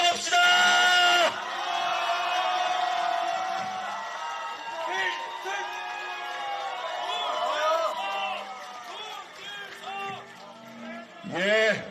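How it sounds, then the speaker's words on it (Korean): A crowd at an outdoor election campaign rally in Cheonan, South Korea, roars and shouts together, with a loud burst of voices at the start, a long stretch of mixed calls and chatter, and another loud swell at the end. "우리 다 함께 승리의 함성을 같이 외쳐봅시다."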